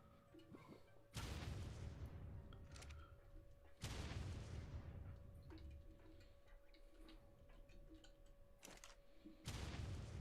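Explosions from a demonic creature below in the video game Ark Survival Evolved (Primal Fear mod), three sudden broadband booms roughly three seconds apart, each decaying slowly, over a quiet sustained tone.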